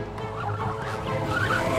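Cartoon bird gobbling like a turkey in the animated series Boonie Bears, a continuous burbling call over a constant truck rumble, with no talk.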